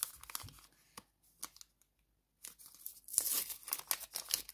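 Paper surprise packets being torn open by hand, with bursts of close ripping and crinkling separated by a quiet gap, then a longer stretch of tearing and rustling.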